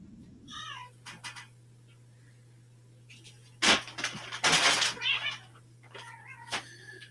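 Several cats meowing indoors in a house, a few short plaintive meows early on, then louder, drawn-out yowling calls close by, over a steady low electrical hum.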